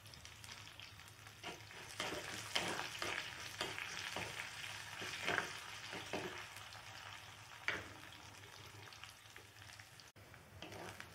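Chopped garlic frying in a pan for a drumstick-leaf stir-fry, a steady close sizzle with bursts of stirring scrapes, no voices.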